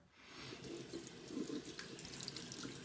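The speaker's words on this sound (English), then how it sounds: "And then you just rinse this with water." Tap water runs steadily into a sink to rinse a small skincare tool, a soft continuous splashing with faint fluctuations and no talking.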